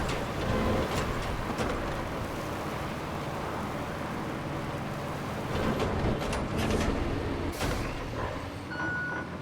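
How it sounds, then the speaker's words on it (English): Heavy bulldozer in RoadCraft pushing sand on a muddy road-building site, a steady loud diesel rumble with clanking tracks, plus truck reversing beeps and air-brake hisses around it. "I'm going to make one more pass here with the dozer."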